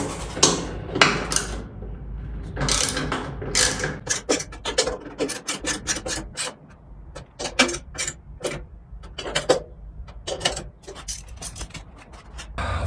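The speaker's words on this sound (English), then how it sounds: "And then the bolts go through the inside to the outside. And we'll go ahead and snug them up." Bolts are snugged up on a 1964 VW Beetle chassis under restoration, a run of close, dry ratcheting clicks in short irregular bursts with brief pauses.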